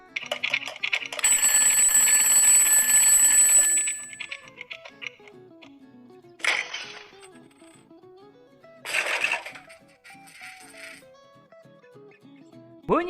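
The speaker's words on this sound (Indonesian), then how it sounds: "Bunyi panjang seperti bunyi jam beker." An alarm clock rings in one long, continuous bright ringing for about three seconds, followed by a few softer, scattered tones.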